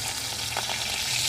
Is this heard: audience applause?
no